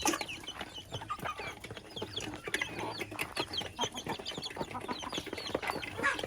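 Backyard chickens cluck and chatter continuously, many overlapping short calls from several birds at close to moderate distance, busy and irregular with no talking.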